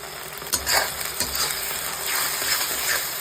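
Spice paste added to fried onions sizzles and crackles in a hot pan for katla fish kalia, with a constant frying hiss and a few scraping stirs, close up and with no talking.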